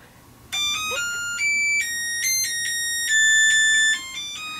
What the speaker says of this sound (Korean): 알람 소리와 함께